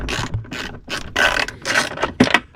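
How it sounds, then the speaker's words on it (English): A ratchet with a 10mm socket on an extension tightens a ground nut during a SuperWinch install on a RZR Pro. Close, loud bursts of rapid clicking repeat in short strokes with brief pauses between them. "I got like a 10mm socket with an extension."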